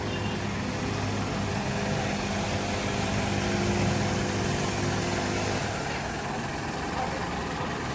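A tractor engine hauls a Perkins 10 kVA generator on a trailer, a steady, droning motor rumble running evenly throughout at moderate volume, shifting slightly in tone toward the end.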